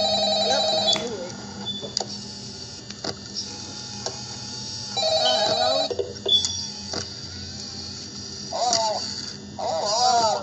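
Telephone ringing in the Five Nights at Freddy's horror game, repeated electronic rings in bursts from the office setting, with a person talking over parts of it and a low background hum throughout.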